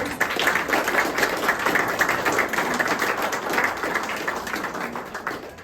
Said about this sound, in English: we'll give her a round of applause